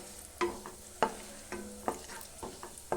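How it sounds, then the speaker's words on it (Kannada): Cashews fry in melted ghee over a low flame, a soft steady sizzle broken by about half a dozen sharp scrapes of a spoon stirring in the pan, close and without talk. "ತುಪ್ಪ ಕರಗಿದ ತಕ್ಷಣ ಗೋಡಂಬಿ ಹಾಕಿ ಅದರೊಳಗಡೆಯಿಂದ ಗೋಡಂಬಿ ನೀಟಾಗಿ ಬೇಯ್ಕೊಳ್ಳುತ್ತೆ."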